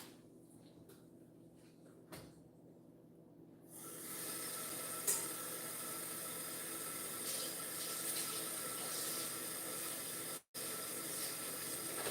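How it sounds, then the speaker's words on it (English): A kitchen sink tap runs for hand washing, faint at first, then gushing water splashes steadily into the basin, briefly cut off near the end before flowing again; nobody speaks. "now, what I'm going to do is I'm about to wash my hands first of all."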